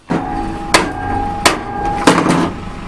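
Three sharp metallic hammer strikes land about two-thirds of a second apart, each ringing briefly, close by over a steady background hum.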